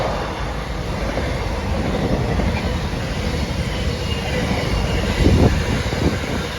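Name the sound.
freight train passing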